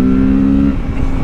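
A 2024 Kawasaki Z650 motorcycle engine pulls hard on a highway, a loud, steady drone with a held tone that drops away partway through as the rider shifts or eases off, continuous and close without any talk.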